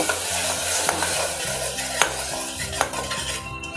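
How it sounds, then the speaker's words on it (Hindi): Rajma masala with ginger, garlic and coconut paste stirred in a pan, a spoon scraping steadily through the thick gravy over a soft frying sizzle, with a few sharper clinks against the metal; close and continuous, no talking. "अब अच्छे से मिक्स कर देंगे।"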